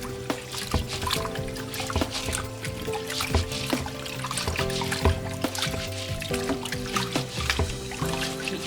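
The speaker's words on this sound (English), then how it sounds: "I'm washing the rice till the water runs clear." Rice being washed in water until it runs clear, a continuous sloshing and trickling of water against the grains and pot with small splashes and drips, close and steady with no talk.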